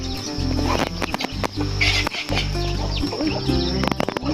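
Loud, busy clucking from several chickens close by, overlapping calls continuing throughout with scattered clattering.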